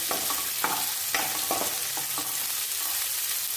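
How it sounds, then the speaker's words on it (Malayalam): Shallots and garlic sauté in a pan for a Kerala-style sardine chilli curry. A spoon scrapes and taps the pan in several distinct strokes over a low, steady sizzle, close by, with no voices. "ചെറിയുള്ളി ചേർക്കും ഇത് നന്നായി വാട്ടിയെടുക്കുക"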